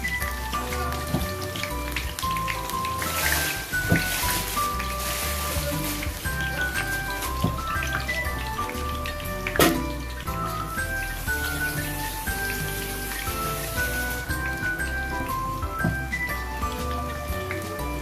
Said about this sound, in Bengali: পেঁয়াজটা আপনারা তেলের মধ্যে নাড়তে থাকবেন।